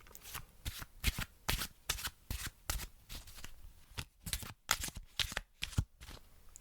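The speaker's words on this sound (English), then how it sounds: "let's do some shuffling right in your ear" Playing cards shuffled close to the ear, a rapid series of crisp riffles and snapping bursts repeating in a steady rhythm, with no talking.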